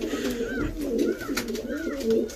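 Racing pigeons, both hens and cocks, coo up close in a soft, throaty rolling rhythm that repeats several times over a steady background murmur.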